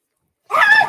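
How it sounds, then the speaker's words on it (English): A chihuahua gives a single sharp, high-pitched bark or yip that breaks out suddenly after silence and holds for about half a second, close and fairly loud. "Why are chihuahuas like that? Like, seriously? I don't understand why she's like that. She woke up out of nowhere and starts barking."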